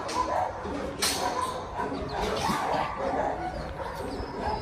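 Shelter dogs bark and yip repeatedly in a noisy chorus, some close and loud, others further off, with occasional whimpers and faint voices in the background.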